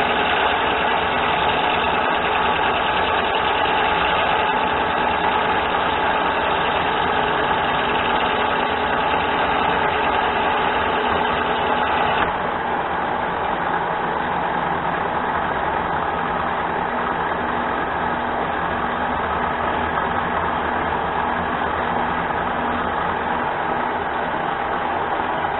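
An engine idling steadily at about 600 RPM, a loud continuous low rumble with constant vibration that runs unchanged throughout, no voices.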